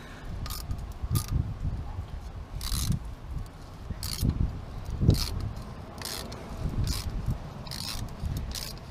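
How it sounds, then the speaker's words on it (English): Someone undoes the fuel filter on a Honda Magna motorcycle and slides it out of its housing. Close, quiet scraping and rattling bursts repeat about once a second over a low background hum. "So we've just slid the filter out of the housing"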